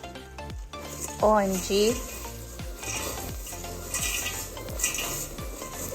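Rice Krispies treats mixture stirred in a pot, with sticky scraping and crackling strokes repeating steadily up close, and a brief exclaimed voice partway through.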